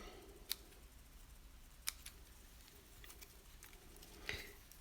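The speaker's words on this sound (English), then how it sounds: "So just give it a good trim." A few crisp scissor snips trim layers of paper, spaced a second or more apart, faint and close against a quiet room hiss.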